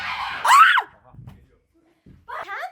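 A person lets out a sharp, loud scream during a fake bloody finger-injury prank, one rising and falling shriek followed by brief quieter voices and another short cry.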